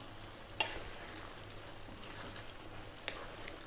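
Penne pasta dropped into a tuna and broccoli cream sauce, a short soft splash and stir near the start, then quiet bubbling with another faint clatter later; no talking.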